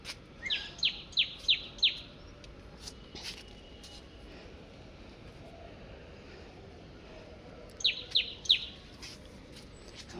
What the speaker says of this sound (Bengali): আমার এই সকালবেলা এসে বিভিন্ন পাখির ডাক শুনতে